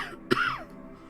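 One short, throaty cough, close and fairly loud, with a rasping tail that fades out within half a second.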